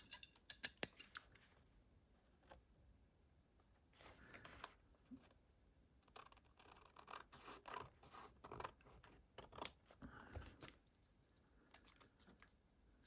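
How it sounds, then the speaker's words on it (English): Scissors cut paper for a mixed media art piece with quick, quiet snips and rustling, scattered in irregular bursts, close and faint with no speech. "let me cut this off if I can find my scissor"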